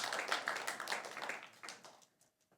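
Church congregation applauding together, a steady burst of hand claps that holds for about two seconds and then trails off into a few scattered claps.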